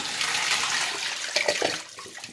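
Water surges loudly through a vintage-style toilet during a siphon flush, a continuous rushing gush that holds steady and then gurgles and thins out toward the end.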